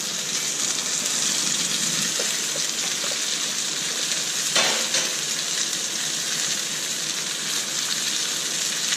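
Steady, loud sizzling of chicken potstickers frying in a cast-iron pan, a continuous crackling hiss from start to finish.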